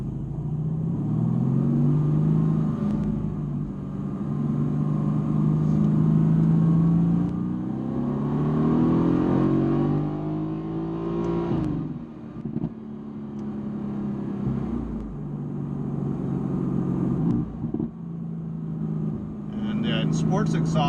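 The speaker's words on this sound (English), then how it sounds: "in sports exhaust mode, you get these crackles too" A 2017 Mercedes-AMG GT S in sports exhaust mode drones steadily through roundabouts, its engine note rising and falling, with a short cluster of sharp exhaust crackles near the end.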